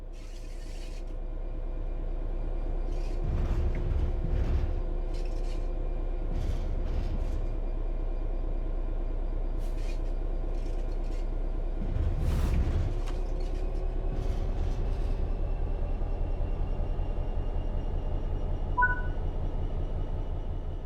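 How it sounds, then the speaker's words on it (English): Electric train in Train Sim World 3 pulling away under throttle, a steady low rumble and hum with rising motor whine, periodic clanks and rail clicks, and a brief two-tone beep near the end. "Apply some throttle to get the train moving."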